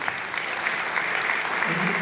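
Steady audience applause from a seated crowd at a music history panel, a dense even patter of many hands clapping throughout without letup.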